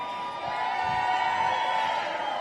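Rally crowd at a 45 Fest event in Dallas, Texas, cheering and whooping in a steady, dense roar that holds loud and continuous throughout.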